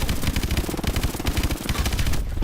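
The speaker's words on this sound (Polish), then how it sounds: "Dali parę strzałów." Rapid bursts of gunfire from Call of Duty: Advanced Warfare crackle continuously, dense and close, with the punchy, compressed sound typical of game weapons and no talking.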